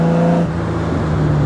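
A Jaguar C-Type car drives with a loud, steady engine drone from inside, its pitch shifting as it changes note partway through, with no talk over it.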